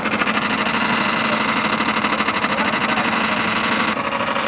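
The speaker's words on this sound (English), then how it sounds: "Luckily, that sound was just something rubbing my fan." A 4x4 Astro van running with something rubbing against its fan, a steady mechanical whirring drone with a fast, rough rattling texture throughout, close and loud with no talking.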